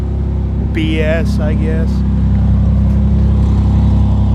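Cold start of a 1994 Ford Ranger Splash on a snowy winter day: a steady loud low idle rumble holds throughout, with a person briefly speaking over it.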